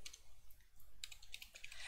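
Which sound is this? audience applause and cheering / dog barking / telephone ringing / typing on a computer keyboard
typing on a computer keyboard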